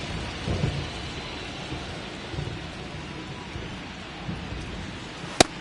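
A thunderstorm with heavy rain over a baseball game: a steady roaring downpour, low rumbles of thunder and a sharp crack near the end, with no talking.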